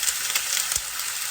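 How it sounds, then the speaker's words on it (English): Beef sizzling steadily in a very hot pan, a loud continuous hiss of frying with a few brief crackles, close up and with no talking. "I'm just going to pour my beef. You can hear the sizzle."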